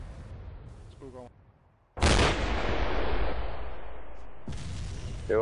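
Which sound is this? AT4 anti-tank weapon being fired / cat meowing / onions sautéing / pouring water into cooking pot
AT4 anti-tank weapon being fired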